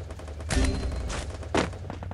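Gunfire in a shooter video game: a few loud, close bursts of shots, each lasting a fraction of a second, separated by short gaps, with a low rumble underneath.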